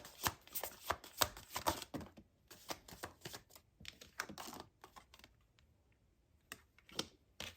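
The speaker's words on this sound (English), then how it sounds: "let's pull a couple of tarot cards out here and see what we get" Tarot cards are shuffled and drawn in quick bursts of crisp riffling, flicking and tapping, close and fairly quiet, with short pauses between the bursts.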